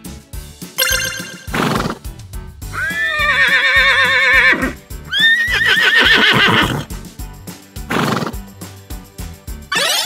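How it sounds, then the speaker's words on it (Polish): A horse neighs loudly and up close in a cartoon-style children's educational clip, two long shrill whinnies set against bouncy music and clip-clopping hooves. "Koń rży!"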